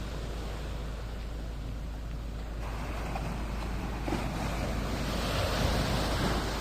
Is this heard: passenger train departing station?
no